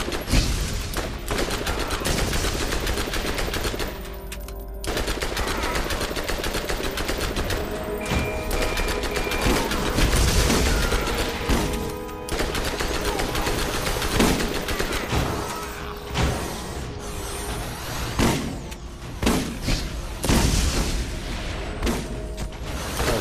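Gunfire in the video game Borderlands during an armory assault, with rapid bursts and scattered shots cracking over a constant busy din of combat, loud and continuous with occasional short lulls.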